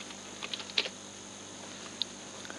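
A few soft, sparse taps on a computer keyboard, quiet and irregular, with no talking.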